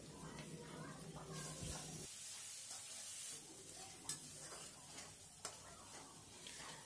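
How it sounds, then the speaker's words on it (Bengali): Ginger and garlic paste fries in a pan with a soft, hissing sizzle and scraping stirs, punctuated by a couple of brief utensil taps; fairly quiet and close, with no talking. "আদা বাটা রসুন বাটা দেওয়ার পরে এগুলাকে একটু ভেজে নিয়েছি"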